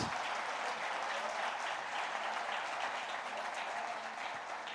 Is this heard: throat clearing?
no